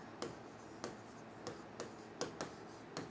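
Marker or chalk strokes on a board during a physics lecture, a quiet series of short scratchy bursts spaced about half a second apart.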